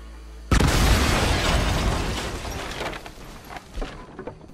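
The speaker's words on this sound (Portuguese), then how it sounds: "vamos colocar dinamite aqui no" Dynamite explodes in Red Dead Redemption 2, a sudden loud boom that breaks into a long roaring rumble with crackling debris, slowly fading over several seconds.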